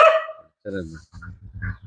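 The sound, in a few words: dog barking on a farm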